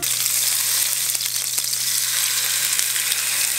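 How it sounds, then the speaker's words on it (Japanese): A block of pork belly sears in a small rectangular tamagoyaki frying pan, giving a steady, close, bright sizzle throughout with no talking. "豚バラ肉の表面に焼き目をつけていきます。"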